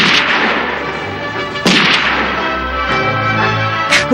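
Loud, sharp gunshots crack out in a sound effect for a documentary, set in a dense forest, each followed by a long echoing decay; three reports come spaced about a second or more apart, with no talking.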